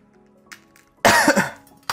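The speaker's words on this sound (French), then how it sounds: "J'ai toussé juste avant de l'ouvrir." A single person coughs in a loud, close burst of two or three harsh hacks after a second of near silence, while ricotta is being opened in a home kitchen.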